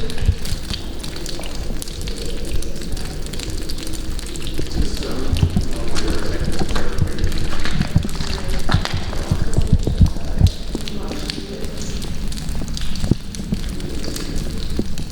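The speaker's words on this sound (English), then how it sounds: "I don't mind getting rained on a little bit." Steady rain patters and hisses all around near an abandoned tunnel under a cemetery, a dense continuous wash of drops with a low rumble underneath and no voices.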